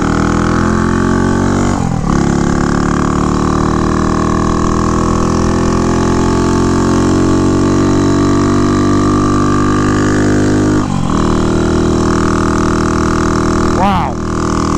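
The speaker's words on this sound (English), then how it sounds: "the motor is totally rebuilt on this thing. There's no valve or lifter noise" A rebuilt 1967 Harley-Davidson H Sprint 250 motorcycle engine runs steadily at a loud, close idle, with a smooth, even drone and a couple of brief blips in the middle and near the end.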